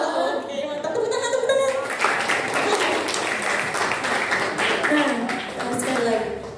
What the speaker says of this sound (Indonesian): Oke mantap, tepuk tangan